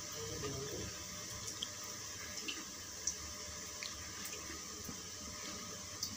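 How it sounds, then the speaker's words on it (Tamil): Water heats in a pot for steaming momos, a faint continuous bubbling and gurgling with small scattered drips and pops, no voices present. "இப்போ தண்ணி வந்து நல்லா ஹீட் ஆகிடுச்சு"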